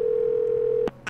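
Steady telephone dial tone from the Do Not Feed the Monkeys video game, a single unbroken tone held for most of the moment before cutting off, followed by brief clicks.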